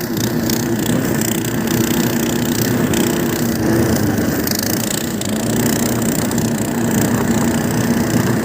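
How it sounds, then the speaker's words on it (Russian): A motor dog, a small snowmobile-style tractor, drives along forest trails in winter, its small engine droning loud and close without a break under a steady rumble and rattle, with no talk. "давай я тебя на мотособаке довезу домой по лесным тропинкам"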